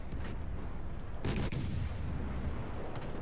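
US destroyer guns firing in the naval video game World of Warships, a loud booming salvo followed by a short rumbling tail over steady background noise.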